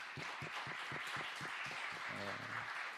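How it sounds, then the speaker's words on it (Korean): Church congregation applauding during a Thanksgiving service, a brief burst of dense clapping with a low murmur of voices underneath. "우리 모두에게 박수 한번 쳐드릴까요?"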